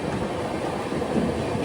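The Coromandel Express sleeper train rolls past Nellore station, a loud, continuous rumble of wheels and carriage with steady rail noise, heard close and without pause.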